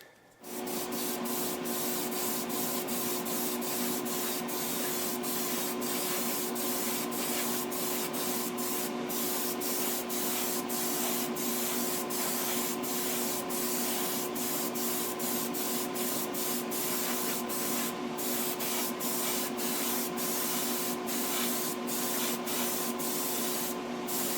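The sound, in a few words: spray painting a truck, fading brown to black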